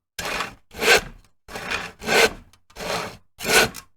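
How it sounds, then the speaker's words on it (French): A sword saws back and forth against a tough spider web in a fantasy tabletop game scene, six rough rasping strokes in steady rhythm with short gaps, close and alone. "Saïros, tu essaies de scier la toile avec ton épée, mais ça n'a aucun effet."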